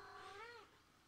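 A house cat gives a single faint, drawn-out meow lasting under a second, alone in a quiet room.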